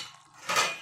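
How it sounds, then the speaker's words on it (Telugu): A metal lid clinks onto a pot of simmering chicken for Hyderabadi dum biryani, making one short, bright clatter that rings briefly in a quiet kitchen. "మూత పెట్టేసుకుందాం."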